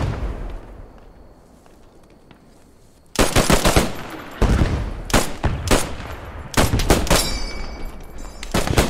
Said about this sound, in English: I'm gonna be suppressing fire on the point